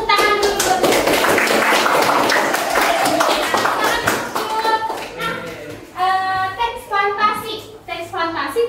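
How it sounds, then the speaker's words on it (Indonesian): Class applause from students, a burst of hand clapping and tapping early on that thins out as children's voices and talking take over. "Tepuk tangan dulu."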